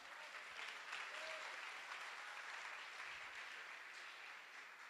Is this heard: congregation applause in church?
yes